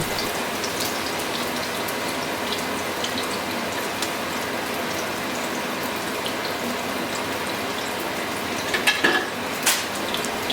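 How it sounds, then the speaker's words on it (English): A steady crackling sizzle of Puerto Rican sancocho ingredients frying in a pan, continuous and close, with a few clinks of a utensil near the end. "Put it in. You will hear the sizzling sound."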